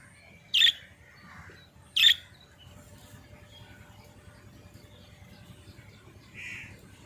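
Pet birds give two sharp, loud squawking calls close by, followed by softer chirps and faint rustling against a low background hum.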